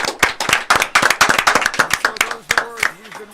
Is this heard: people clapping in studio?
yes